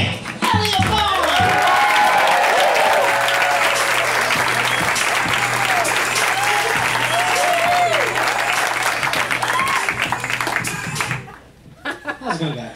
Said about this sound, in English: Give him a big round of applause for Mr. Nick Eliafan.